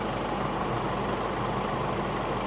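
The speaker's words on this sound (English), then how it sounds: "if you're wondering why the engine is running while I'm talking, it's because I wanted to show how quiet it is" A 2022 Isuzu mu-X 3.0 diesel SUV engine idles in a steady, even drone, moderately quiet and constant throughout with no talk.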